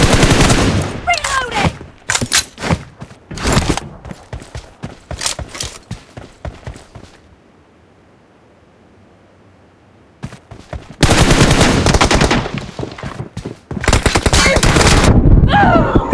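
Gunfire in the BGMI/PUBG video game comes in loud, sharp bursts of rapid shots and single cracks. A quiet stretch in the middle breaks it before dense firing returns near the end.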